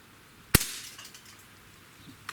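A Beeman AR2078A CO2 target air rifle fires one sharp, loud crack followed by a short decaying tail, with a fainter click near the end, outdoors in chilly air.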